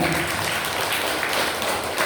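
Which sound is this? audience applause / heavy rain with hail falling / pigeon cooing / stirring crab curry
audience applause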